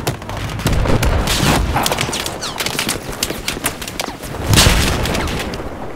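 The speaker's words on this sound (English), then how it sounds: "Grenade!" A grenade explodes in the Battlefield 4 Altai Range map during a 32-player Rush match, a loud burst under constant gunfire, with a second heavy blast swelling near the end.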